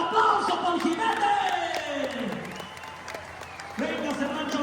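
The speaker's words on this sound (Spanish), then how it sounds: "¡Fuerte el aplauso para el jinete!" Crowd applause for a bull rider at a rural jaripeo in Oaxaca's Mixteca region, a steady loud wash of clapping with a voice talking over it across the whole stretch.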